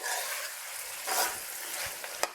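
Masala for green chicken karahi fries in a pan, a continuous fairly quiet sizzle with occasional stirring scrapes and a sharp tap near the end, no voices.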